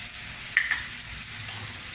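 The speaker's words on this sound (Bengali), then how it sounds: "এবার পেঁয়াজ আদা কাঁচা লঙ্কাটা আবার একটু ভালো করে ভেজে নিচ্ছি।" Onion, ginger paste and green chili fry in oil in a pan, giving a soft, continuous sizzle with a few light scraping stirs, close and fairly quiet, with no talking.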